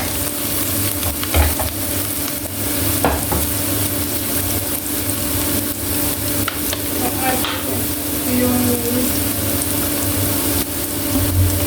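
Ingredients crackle loudly as they are stir-fried in a pan for Filipino sautéed corn with bitter melon leaves, a dense continuous sizzle with occasional scraping strokes of a spatula.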